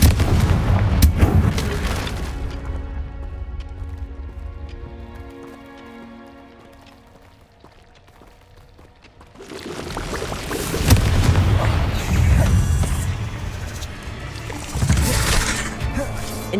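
Spell blasts from the Bombarda curse in the Hogwarts Legacy video game, heavy booming impacts and crackling bursts at the start and again in the second half, with a quieter musical lull between them.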